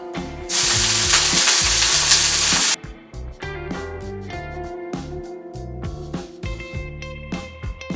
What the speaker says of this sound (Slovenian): Olje je dovolj vroče, vrgla sem košček ohrovta, pa je fajn zacrčalo